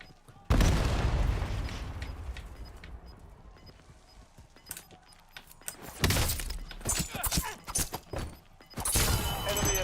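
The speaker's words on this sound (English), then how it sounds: "Throwing grenade!" Grenade detonating in a first-person shooter video game, a sudden loud boom followed by a lingering rumble, with further crashing and debris-like impacts building again a few seconds later.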